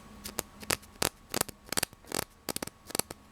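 A fingernail scratching the blade of a Cold Steel Secret Edge neck knife: short, sharp scratching strokes in quick irregular bursts, close and fairly quiet over a faint background hum.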